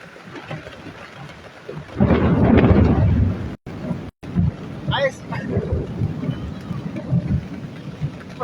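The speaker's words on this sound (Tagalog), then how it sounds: "dito po malakas ulan dito, mahangin" Heavy rain and gusting wind at a flooded Marikina riverbank during a July storm, a loud steady downpour with a thunder-like roar surging in the middle, while a person talks over it nearby.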